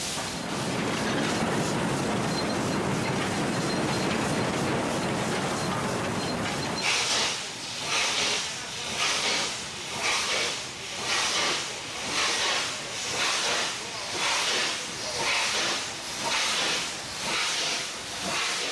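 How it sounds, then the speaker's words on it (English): A long steady roar of hissing steam gives way to rhythmic chuffing bursts as a steam locomotive slowly pulls into a station south of Madras, India, loud and close. "Nothing evokes the romance of the railway like a steam engine."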